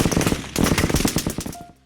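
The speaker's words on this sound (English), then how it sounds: "a hail of gunfire erupted" Rapid bursts of automatic gunfire as a sound effect for an FBI shootout with an outlaw in the street, loud close cracks in quick succession, pausing briefly, then another burst before cutting off.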